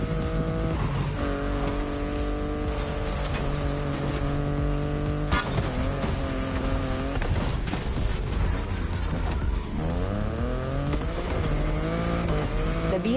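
A BMW i8 driving in The Crew Motorfest, its engine droning and shifting pitch through gear changes, with tire squeal and skidding as it corners, loud and continuous for over ten seconds with no talk.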